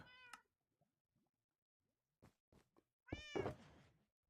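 A cat meows twice, a short close call and then a longer, louder one, separated by a few soft knocks and near silence.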